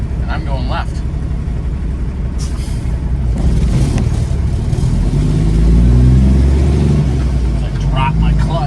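A semi truck's engine revs up in a deep, steady rumble that swells louder midway as the clutch is released, with faint voices and brief hissing in the background.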